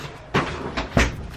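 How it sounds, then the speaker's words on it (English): An interior door being pushed closed nearby: a soft thump, a smaller knock, then a firmer latching bump, all within about a second. "I'm gonna close my door"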